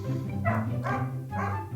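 A dog barks three times in Minecraft, spaced unevenly over a steady low hum, each bark moderately loud and close, with no talking.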